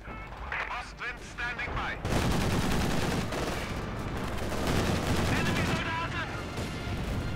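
Rapid small-arms gunfire and heavier mortar blasts in the Company of Heroes 2 battle, a dense continuous barrage of crackling shots and booming impacts, with a commentator talking faintly beneath it.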